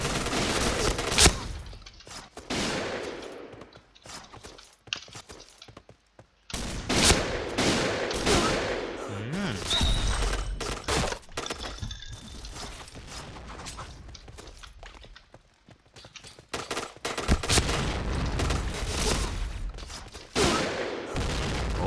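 Rapid bursts of gunfire and shotgun blasts from the Point Blank first-person shooter game, a SPAS-15 shotgun among them, loud and dense with brief pauses between volleys.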